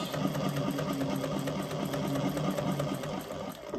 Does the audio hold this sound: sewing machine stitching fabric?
yes